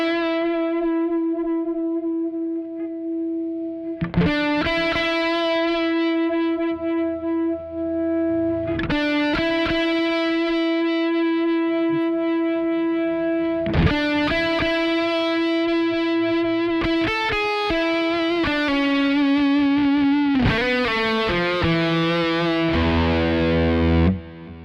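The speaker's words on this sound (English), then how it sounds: "So this is the great use of the compressor for boosting for lead tones." Overdriven electric guitar playing a lead line through a Kemper Profiler, with its compressor set to boost the lead tone. Sustained notes and chords ring out in phrases, several of them fading away slowly before the next attack, with no voices.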